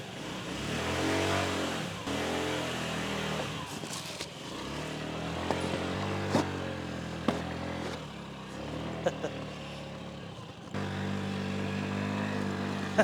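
Honda Ruckus scooter engine running steadily close by, a continuous low engine drone with small revving swells and clicks, while someone talks over it throughout.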